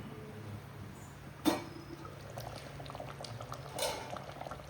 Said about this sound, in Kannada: ಈಗ ಒಳ್ಳೆ ಕುದಿ ಬರ್ತಾ ಇದೆ, ಸಾಕು.